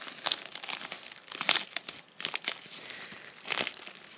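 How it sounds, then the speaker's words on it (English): Frozen fabric of a tunnel-style hot tent crinkles and crunches in several irregular bursts at dawn, close and fairly loud, with brief quiet gaps between the rustles and no talking. "That is the sound of a frozen tent."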